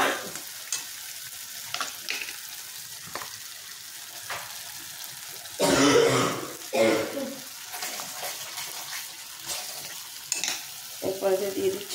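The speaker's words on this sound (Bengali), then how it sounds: "মশলাটা যেন লেগে না যায় তাই হালকা করে একটু জলের ছিটা আমি দিয়ে দিচ্ছি।" Spices for chicken tikka masala, with leftover yogurt marinade, sizzle in a pan as water is splashed in, giving soft intermittent frying crackle and stirring scrapes and one louder burst of sizzle partway through.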